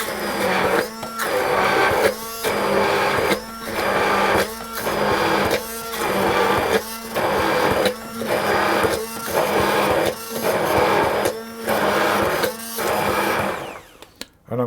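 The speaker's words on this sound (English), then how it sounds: "So that's the pea mixture with the shallots, and I'm just going to blitz that." A blender blitzes a pea and shallot mixture into puree in short repeated pulses, about a dozen close whirring bursts with brief gaps between them, ending abruptly.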